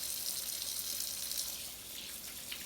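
Tap water runs steadily into a kitchen sink as hands are washed after handling jalapeños, a constant close hiss with no talk.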